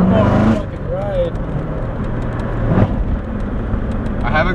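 A Corvette C7 Z06 with a Borla X-pipe exhaust drives along a street, its engine droning loud and steady throughout, swelling briefly near the middle, with people talking over it.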